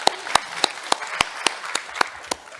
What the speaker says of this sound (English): May I crave your indulgence to give him one more round of applause for good presentation.